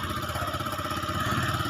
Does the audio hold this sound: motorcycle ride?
yes